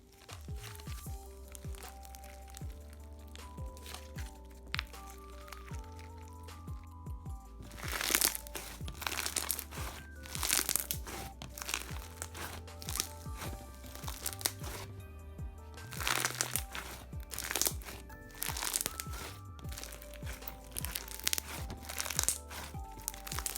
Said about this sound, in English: It's just the perfect crunchy slime. This texture makes amazing bubble pops